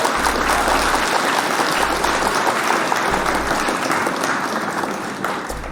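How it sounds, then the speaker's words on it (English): Recorded applause set off by a clap button on a live online news show, a dense, steady wash of clapping that fills the whole stretch at even loudness and eases off slightly at the end. "Hit the clap button for the whole world right now."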